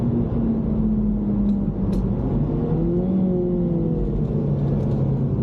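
A Mini Cooper S lapping at a track day, heard from inside the car: a steady, loud engine drone that rises and falls in pitch as it accelerates and shifts, with rumbling road noise under it and no talking.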